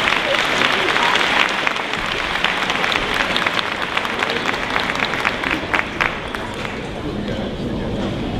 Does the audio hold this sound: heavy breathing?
no